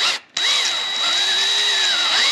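A power drill whines continuously after a brief stop, its pitch wavering slightly as it drills out stripped threads in an engine's metal, loud and close.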